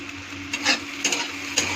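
Egg bhurji, spiced scrambled eggs, being stirred in a pan, giving a few short scraping strokes over a faint steady sizzle, close and fairly quiet with no talking.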